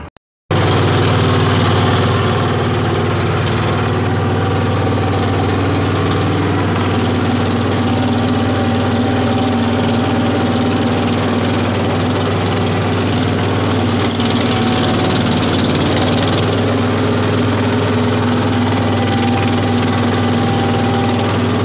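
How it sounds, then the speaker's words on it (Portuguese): A small tractor engine running steadily while clearing brush on a rural plot, a loud, continuous low drone with a constant hum and little change in pace throughout, heard close with no voices. "Então a gente vai roçar agora com o tratorzinho."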